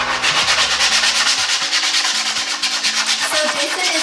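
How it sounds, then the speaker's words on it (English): Sandpaper rubs along the edges of wood pieces in quick, rhythmic back-and-forth strokes, a close, steady scratchy rasp with no talking. "He is sanding the edges to give them a crisp, nice finish."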